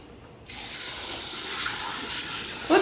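Water gushes steadily into a pot holding carrots and garbanzo beans for couscous, beginning abruptly after a short quiet moment, with a clatter near the end.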